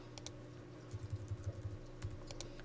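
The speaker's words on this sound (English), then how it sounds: "I'm using actually my keys on my keyboard" A run of computer keyboard keystrokes, soft clicks in an irregular cluster and then a few more taps, close up over a faint steady hum with no talking.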